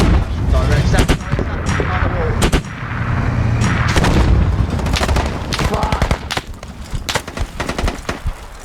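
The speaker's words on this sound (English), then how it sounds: "The vehicle blows up, I get hit, I'm being suppressed" Heavy gunfire in the military shooter game Squad, with a vehicle blowing up amid rapid machine-gun bursts and booming impacts, loud and dense throughout, with muffled voices talking underneath.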